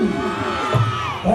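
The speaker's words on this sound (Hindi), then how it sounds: "जोर से तालियां बजाएंगे" A crowd at a Ramlila performance in Todapur cheers and shouts over a brief, busy burst of voices lasting just over a second, with whoops and children's cries mixed into the noise.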